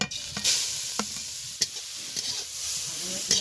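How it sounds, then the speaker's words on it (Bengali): Grated carrot fries in hot ghee with a soft, steady sizzle, broken by a few sharp spatula scrapes and taps against the pan, close by and fairly quiet, with no talking. "গ্রেট করে গাজরটা গরম ঘি দিয়ে ভেজে নিব"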